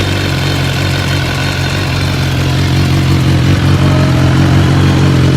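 A 2017 BMW S1000R Premium Package motorcycle idles close up, a loud, steady, slightly clattery engine drone that holds an even level throughout.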